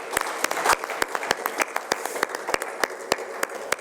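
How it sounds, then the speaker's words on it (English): Scattered audience clapping as award winners come up to the stage at a school event, a sparse rhythm of distinct individual claps rather than full applause, fairly close. "can we please continue clapping for them?"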